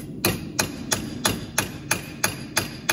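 Hammer blows rivet a road nail over on a steel hind horseshoe, nine sharp ringing metallic strikes in a steady rhythm about three per second, close and clear with no talk.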